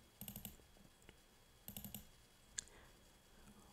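Mouse clicks on a computer in Microsoft Excel, heard as two short bursts of rapid, close, quiet clicks with a single sharper click afterwards, and no talking.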